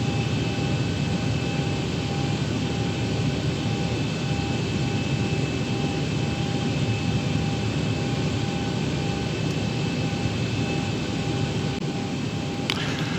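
A jet airliner after landing at Jacksonville in a flight simulator game, heard as a loud, continuous engine roar with steady tonal whine that holds unchanged throughout.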